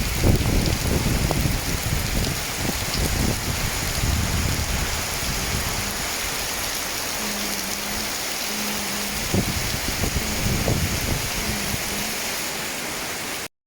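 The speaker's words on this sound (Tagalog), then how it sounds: "sobrang malakas na ulan" Heavy rain pours steadily with a dense, hissing roar that holds at an even loudness throughout, with no voices.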